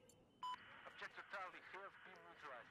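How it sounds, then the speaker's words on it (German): A short electronic beep sounds once in Battlefield 4 on Xbox 360. Someone speaks right after it, with faint game noise beneath. "Oh, es piept."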